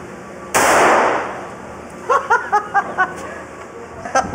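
A single loud, close firearm shot with a hissing tail, followed by a burst of laughter and short voices.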